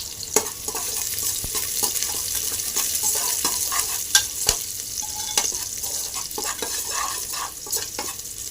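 Garlic fries in a hot pan while being stirred, a dense continuous sizzle broken by frequent sharp scrapes and taps of the spoon against the pan, close and fairly loud, with no voices.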